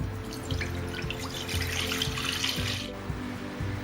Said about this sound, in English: In a pan, add the milk.